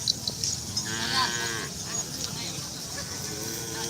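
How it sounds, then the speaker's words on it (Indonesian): Cattle low at a kerapan sapi bull race training field in Asemanis, Pamekasan, Madura, one drawn-out moo rising and falling against a busy outdoor crowd murmur with people talking nearby. "Ada sapi kecil, sapi besar."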